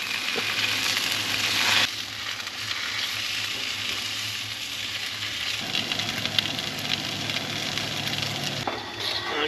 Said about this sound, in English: I'm gonna flip this stuff over.